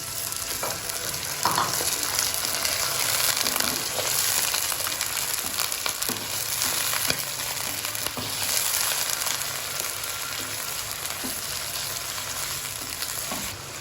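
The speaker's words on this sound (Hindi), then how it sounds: "अब हम इसमें डालेंगे चिकन। बिस्मिल्लाहिर्रहमानिर्रहीम। चिकन को अच्छी तरह से हम बीच में भूनेंगे।" Chicken pieces frying and being stir-fried with browned onions in a pan for aloo chicken, giving a steady, close sizzle throughout with occasional scraping and stirring knocks.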